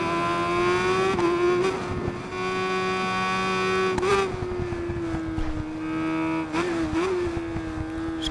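A naked motorcycle's engine drones steadily on a track lap, its pitch holding high with small dips and surges between gear changes, loud and close throughout with wind buffeting.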